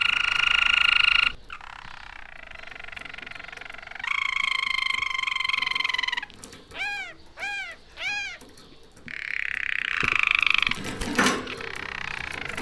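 A caged Harz canary sings close by in varied phrases: rolling trills, repeated chirps and sustained whistled notes, with short pauses between and no talking.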